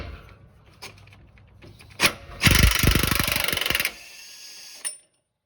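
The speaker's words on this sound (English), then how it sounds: "you can hold this by hand and just let the impact do all the work" Impact wrench removing a pinion nut, held by hand: a loud burst of rapid hammering lasting about a second and a half, framed by a few clanks and a short final rattle, with no talking.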